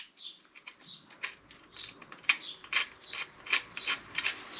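Small oil sump screw being turned on a Clio engine, a quiet series of light metallic clicks and scrapes in an uneven ratcheting rhythm, close up and faint, with no speech.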